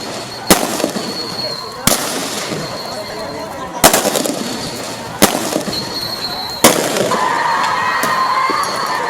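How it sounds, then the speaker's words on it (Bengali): Gunfire and tear gas shell blasts during street clashes between protesters and security forces, a handful of sharp loud bangs spaced a second or two apart over a continuous roar of crowd noise. "মুহুর্মুহু গুলি, টিয়ার শেল,"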